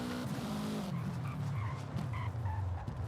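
A car in the Forza Horizon 5 racing game brakes hard, with a loud tire squeal and skid over a deep engine roar that drops in pitch as the car slows.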